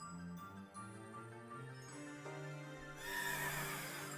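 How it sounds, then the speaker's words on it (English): Spectrier, a black horse in the video game Pokémon Crown Tundra, gives a drawn-out neigh over steady game music, with a brighter burst near the end. "That is a cool looking horse."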